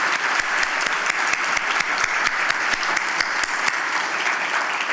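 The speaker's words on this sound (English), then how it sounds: "please join me in a round of applause for the 2023 Selection Committee" An audience applauds the selection committee at the 2023 NB Business Excellence Awards, with steady, sustained clapping throughout and a few sharp individual claps standing out.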